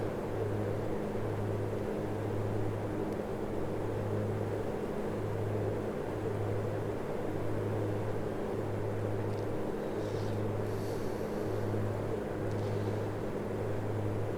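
Steady drone of the A2A Aerostar 6 plane's engines in Flight Simulator 2024, a constant low hum with a pulsing beat running throughout, heard alone with no voices.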